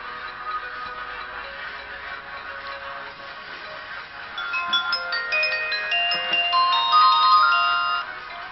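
A mobile phone with wireless internet plays its startup tune after being switched on: a bright electronic melody of rising tones that grows louder in the second half, alone without talk.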